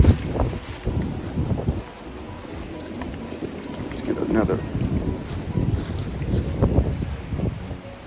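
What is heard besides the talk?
wind blowing outdoors in yard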